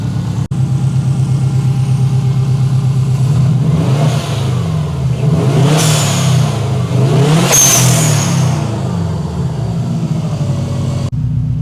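A Subaru WRX engine, bought cheap with a suspected gearbox fault, idles with a steady close rumble, then revs up in a couple of rising and falling surges before settling back to idle.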